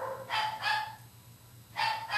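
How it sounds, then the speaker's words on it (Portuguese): A small dog barks in three quick, fairly loud yaps, two close together and one after a pause, over a low steady hum indoors. "Tem um cachorrinho aqui que gosta de latir."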